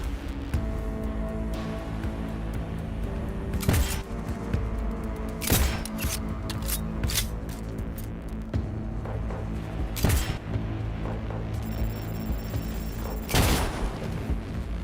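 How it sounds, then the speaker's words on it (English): Grenades are fired in Cyberpunk 2077, producing several sharp, loud bursts spaced irregularly across the stretch amid a murmuring game background. "You can shoot grenades too."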